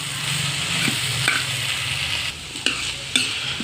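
Boiled ivy gourd pieces frying in a pan, a steady crackling sizzle broken by a few sharp spatula knocks and scrapes near the end, close and moderately loud with no talk.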